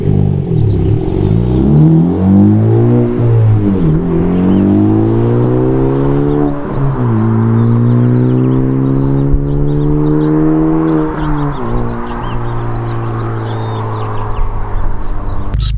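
2021 Honda Civic Type R fitted with a MAP exhaust, revved in R mode: a loud, close engine note that climbs and falls through several sustained rev sweeps, with a raspy exhaust tone and no talking.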